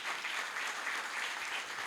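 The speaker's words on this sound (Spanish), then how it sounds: "Vamos a darle un aplauso enorme a Walter Martínez." Applause from a studio audience on a Spanish-language radio broadcast, a dense, steady clatter of clapping hands lasting just under two seconds.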